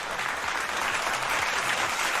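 Steady, dense applause from a crowd, loud and continuous throughout with no gaps, filling the whole stretch.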